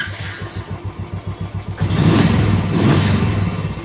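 A Royal Enfield Classic motorcycle is cranked with a rapid, even chugging of the starter, then catches and fires into a loud, steady running engine close by.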